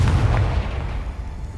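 A Confringo blasting spell from the video game Hogwarts Legacy bursts in one loud, close explosion, a deep boom that rolls off and fades within a second and a half.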